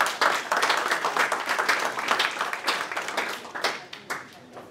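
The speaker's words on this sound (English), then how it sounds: "Round of applause for you." An audience applauds as a participant walks on stage at an app clinic event. It is a steady, dense wash of many hands clapping, which thins out near the end, and some voices can be heard through it.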